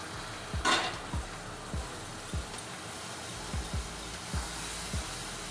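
Tomato paste goes into a spice paste frying in a pan for mushroom masala, a steady soft sizzle broken by regular, evenly spaced spoon scrapes and taps, close by with no talk.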